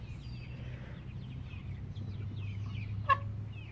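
Soft, scattered clucking of hens at a chicken farm in the background over a low steady hum, with one sharp brief sound near the end.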